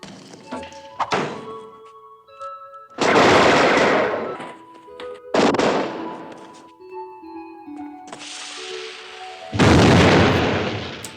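Rifle gunfire from the 1971 film The Omega Man: several heavy, booming shots spaced a few seconds apart, each a loud blast with a long decaying tail, separated by quieter stretches.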